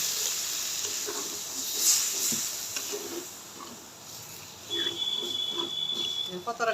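Water is poured into frying chicken curry with potatoes, producing a soft, steady hiss and sizzle near the pan, with faint bubbling and light clinks.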